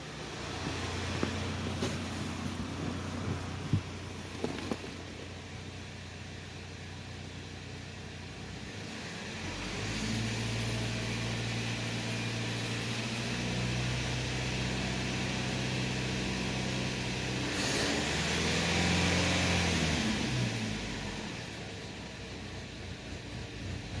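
Chevrolet Equinox with a P0014 fault, its engine raised in RPM and then idling unevenly, a low droning hum that swells and fades over several seconds, heard from inside the car without talk.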